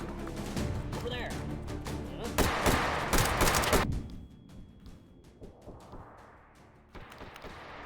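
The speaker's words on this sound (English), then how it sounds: "Thanks for the flashbang." A flashbang grenade goes off during a firefight in H3VR or Tarkov. A dense, loud crackle of blasts and shots peaks, then drops into a ringing, hissing decay, with a voice talking in the background.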